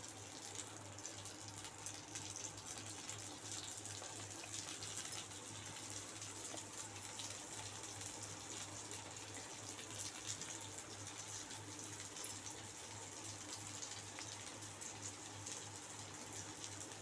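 Punugulu batter fries in hot oil, a steady, even sizzle and hiss that continues for the whole stretch at a soft, constant level without talk.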